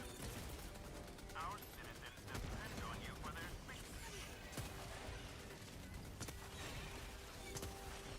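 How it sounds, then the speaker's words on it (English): Gunfire in the Helldivers 2 video game: dense, continuous bursts of weapon fire and explosive cracks layered over a busy battle mix, with sharp transients throughout. "Get out of the way of the gunfire."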